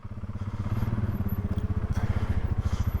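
A motorcycle engine putters at gentle, steady throttle on a rough, washed-out canyon trail, a close, rapid pulsing exhaust beat that holds even throughout with light clatter over it.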